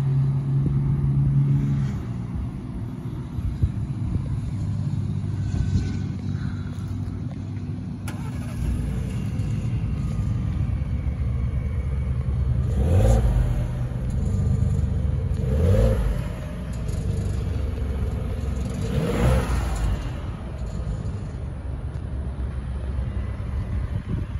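A 2024 Ford F-150 STX truck's 2.7-liter EcoBoost turbo engine cranks on a cold start and fires up, then settles into a steady, fairly loud idle with a few slight rises in revs.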